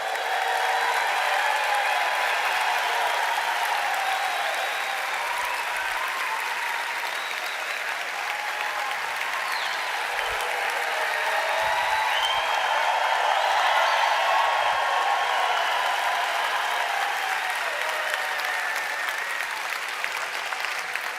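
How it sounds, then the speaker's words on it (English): A conference audience in Anaheim breaks into long, sustained applause, dense clapping that swells and holds steady for about twenty seconds without talk. "Give him a nice round of applause."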